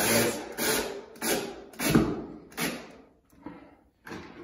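Screws driven into metal corner flashing, a series of short whirring power-driver bursts, about seven in quick succession, each a brief buzzing spin with gaps between, close and moderately loud.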